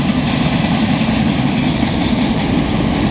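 A CN local freight train rumbles past close by in Montreal, a loud continuous roar of wheels and rail noise with a steady clatter throughout.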